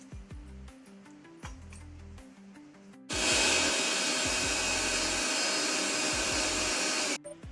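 A mixer grinder blends a spice paste of onion, tomato, coriander, cashews, turmeric and asafoetida, starting abruptly as a loud, steady whirring roar that runs for about four seconds and then cuts off.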